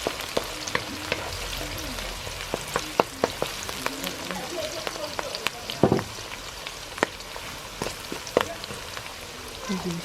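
Snail and potatoes frying in a pan for a Naga-style dish, a steady crackling sizzle with scattered sharp pops and occasional stirring scrapes throughout, close and moderately loud with no talk.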